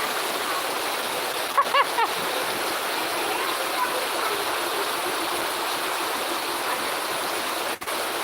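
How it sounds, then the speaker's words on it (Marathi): Steady broadband rush of heavy monsoon rain and a waterfall in Konkan, constant and close, with a couple of brief knocks early on. "पाऊस येते जोरात कोकणातील पाऊस धबधबा"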